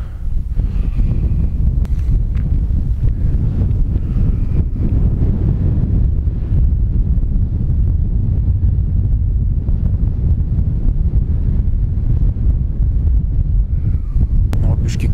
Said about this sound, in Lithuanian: Keičiasi vėjo kryptis